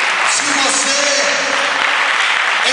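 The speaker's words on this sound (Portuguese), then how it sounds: "Um aplauso a Ele." A church congregation bursts into loud, sustained applause filling the room, dense clapping throughout with no break.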